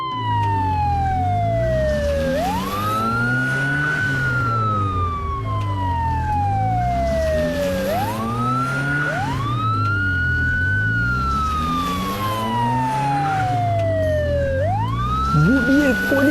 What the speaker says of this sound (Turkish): Ben de böyle sirenler istiyorum.